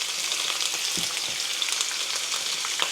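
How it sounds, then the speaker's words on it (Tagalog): Washed chicken pieces frying in hot oil, a steady close sizzle with crackling pops and a faint stir of the pan, no voices. "muna natin pipirituhin yung mga manok na hinugasan ko na"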